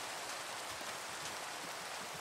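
Rain falls in a video game as a faint, even hiss of steady rainfall with no voices over it.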